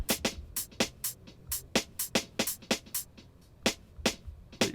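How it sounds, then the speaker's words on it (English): An isolated snare drum sample tuned to the track's key hits in a steady, fairly quick rhythm, each crack sharp and bright with noisy decay, heard alone with no other instruments. "So let's just isolate that snare."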